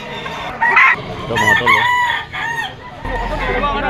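Black Bull stag rooster at a Malabon pet market, crowing loudly and close amid a busy crowd, with someone talking over it.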